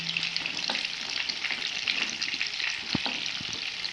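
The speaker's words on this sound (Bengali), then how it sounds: "এবার আলুটাকে 3 মিনিট ধরে একটু ভেজে নেব আমরা" Potatoes fry in hot oil for a vegetarian aloo dum: a steady, dense sizzle and crackle runs throughout, close and even. A few soft stirring knocks sound near the end. No one speaks.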